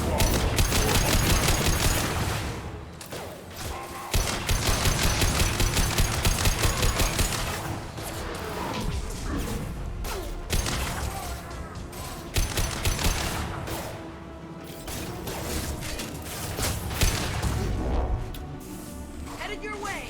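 Bursts of automatic gunfire during a Mass Effect 2 battle, rapid rattling volleys that stop and restart in loud clusters, with brief combat voices and mechanical clanks mixed in.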